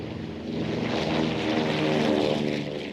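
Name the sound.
propeller aircraft engine, C-47 twin-engine transport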